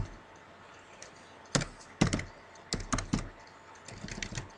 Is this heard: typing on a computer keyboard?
yes